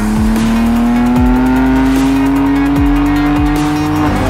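A 2021 BMW M2 CS with the turbocharged 444-horsepower M4 engine accelerates hard, its loud, close engine note climbing steadily through the gears alone, with a hint of tire squeal.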